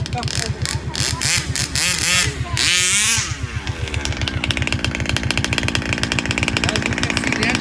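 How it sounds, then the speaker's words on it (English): A loud engine running close up with a steady, rapid pulsing beat that settles into an even idle after a rougher, revving start, while voices talk over it early on. "As you can see, the engine is running perfect right now."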